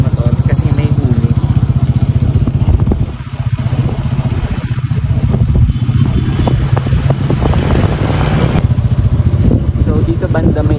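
Heavy motorcycle traffic near a roadside checkpoint in Sarangani, Philippines: a loud, steady drone of nearby engines runs throughout, with talk over it.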